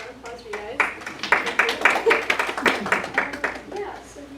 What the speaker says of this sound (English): So applause for you guys